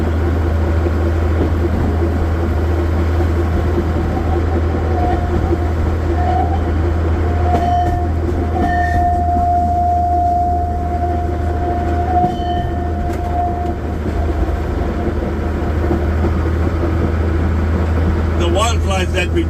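Power Van rail vehicle climbing Outeniqua Mountain near George, South Africa, runs on train rails with a loud steady rumble and drone, faint wheel squeal in the middle, while a guide talks over it throughout.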